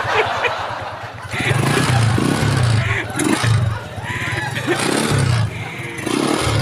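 A nine-month-old Euro 150 motorcycle with an engine problem idles and revs close by in rough, uneven pulses, with people talking and laughing over the engine noise.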